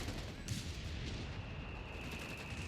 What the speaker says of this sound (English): I don't know where the heavy artillery is hitting, though.